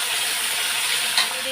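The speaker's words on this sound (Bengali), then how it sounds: "এবার আলুগুলো একটু লাল লাল করে ভেজে নেব" Potatoes fry in oil with scorched panch phoron in a Bengali home kitchen, giving a steady, fairly loud hiss and sizzle through the short stretch.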